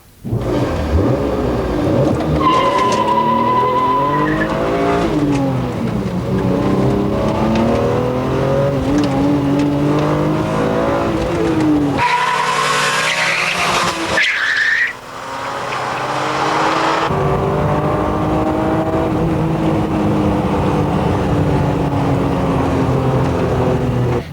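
Loud street-racing car engines roar and rev continuously, with a sharp squeal partway through, like tires skidding during a fast acceleration.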